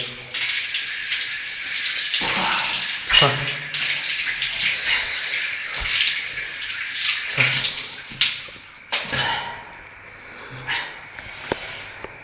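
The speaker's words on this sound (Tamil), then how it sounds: "பாத்ரூமில் தண்ணி வருதா?" Water runs from a bathroom tap in a steady gush that stops and starts several times, with splashing bursts and a few nearby sounds in between.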